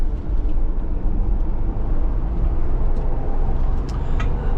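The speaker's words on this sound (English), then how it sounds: "The ride is smooth, it's comfortable, and surprisingly on a back road like this, handles really well for something on 35-inch mud terrains." A 2021 Ford Bronco Sasquatch with a 2.7-liter engine, 10-speed automatic and 35-inch mud-terrain tires cruises a back road, its cabin filled with a steady low road and engine rumble and tire roar.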